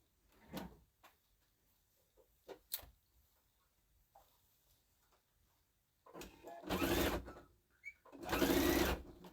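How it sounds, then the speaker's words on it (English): A sewing machine stitching straight across a drawstring bag about a quarter inch down, heard in two sustained whirring runs near the end after scattered handling clicks and knocks. "And then sew it like 1/4 inch down all the way across."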